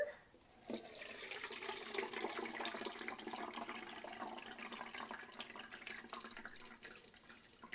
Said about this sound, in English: So now I'm going to use my strainer, and I'm going to pour all this in here.